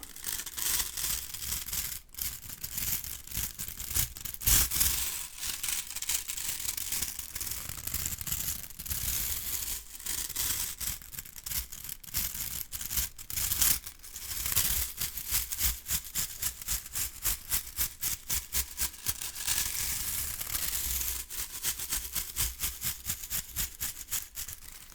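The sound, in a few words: stiff bristle broom brushing microphone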